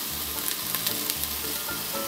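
Green string beans and thin French beans sizzle and fry in a hot pan, a steady crackling hiss with occasional stirring scrapes.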